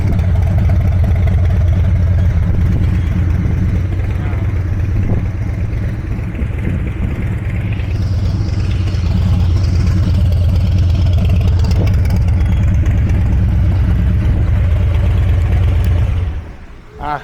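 A Harley-Davidson Low Rider ST motorcycle fitted with a full TBR exhaust system, not yet tuned, rumbles loudly and steadily at close range, its deep engine drone running throughout with someone talking over it.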